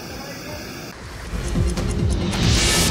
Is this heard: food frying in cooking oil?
no